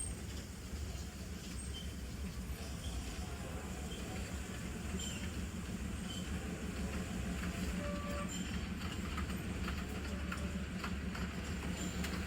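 A train on the Matheran hill railway passes at a distance, a faint, steady rumble and clatter of wheels lasting throughout with no voices.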